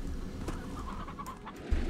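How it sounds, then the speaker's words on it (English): Chickens cluck and chatter in a video game, a soft, busy stretch of fowl sounds over a low background hum, without speech. "Bob, did you want stony hens or regular hens?"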